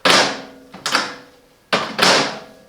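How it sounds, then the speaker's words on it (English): Four sharp plastic clunks from the door lock of a Silvercrest SMWC 700 D1 microwave being worked, arriving in two close pairs, loud and near with short ringing tails. "You can lock the microwave door, just press and lock it."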